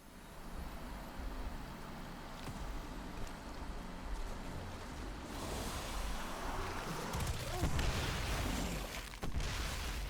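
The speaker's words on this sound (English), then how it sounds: "This grave is hidden in the darkness below a waterfall." Water pours down a waterfall in Destiny 2's Trapper's Cave Lost Sector as a steady rushing roar. It swells louder midway, with a few dull low thuds near the end.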